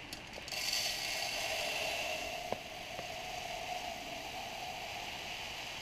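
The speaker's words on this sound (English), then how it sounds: "you can see there the seeds have come out the bottom into the little feeder tray" Bird seed pouring into a window bird feeder indoors, a soft, continuous hissing trickle heard close and fairly quiet, with a couple of faint clicks partway through.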